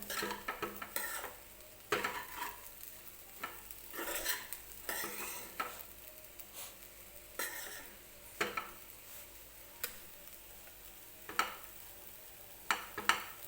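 A spatula stirs torn pieces of leftover chapati with a pinch of salt in a pan, making intermittent scraping strokes and light clinks against the metal over a faint sizzle, close and moderately quiet, with no talking.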